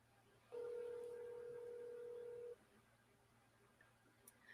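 A telephone call line rings once as a single steady electronic tone lasting about two seconds, faint over quiet room hiss and followed by near silence.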